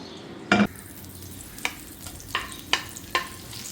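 Thin chicken pieces frying in a little oil, giving a soft steady sizzle broken by a handful of sharp clanks or stirring knocks spaced across the stretch.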